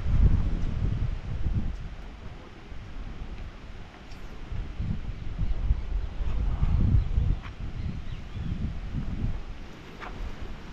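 Strong wind buffets an outdoor microphone at a lake during a fishing trip for peacock bass, with steady low rumbling gusts that swell and ease throughout, no voices present.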